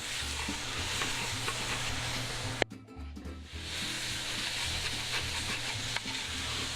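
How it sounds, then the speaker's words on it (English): A wooden spatula scrapes the bottom of a pan of sizzling sinigang base, with a dense steady frying hiss broken by a sudden burst and brief lull as liquid hits, then resuming, close and continuous. "with that I get the wooden spatula and I'm gonna start scraping the bottom"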